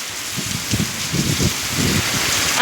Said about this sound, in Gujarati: વહાપરામાં એટલો વરસાદ છે